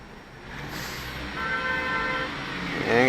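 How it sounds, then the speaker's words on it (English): Car horns honk in street traffic, a couple of moderate tooting blasts over a steady background of road noise and idling vehicles. "And your stalkers blowing their horns."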